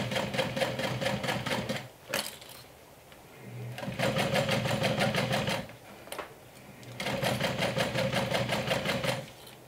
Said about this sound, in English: So now I'm top stitching the curve.